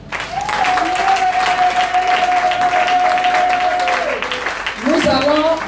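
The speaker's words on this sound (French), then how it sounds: "Acclamons un peu Jésus." A church congregation applauds to acclaim Jesus, a steady dense wash of clapping lasting several seconds, with a long sustained vocal cry ringing over it and a fresh swell of cheering near the end.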